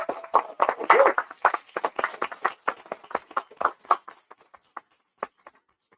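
Applause for Andy at a small-business meeting, a cluster of hand claps that starts fairly dense and thins out to a few scattered claps before fading to quiet.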